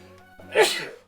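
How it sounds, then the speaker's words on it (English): One sharp human sneeze bursts out close to the microphone after a brief inhaling buildup, over a faint low hum, with no talking. "I do apologize for the sneezes."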